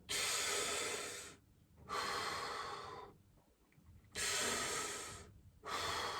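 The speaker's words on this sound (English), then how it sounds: "This is how I breathe when I'm singing." A singer shows deep diaphragm breathing: loud, close breaths rush in and out in long airy bursts separated by brief pauses. Nothing else is heard.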